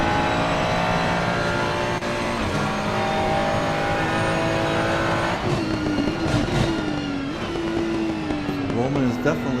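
Ferrari race cars in a racing video game at Laguna Seca, their engines droning steadily with rising and falling revs as they corner. A commentator talks throughout.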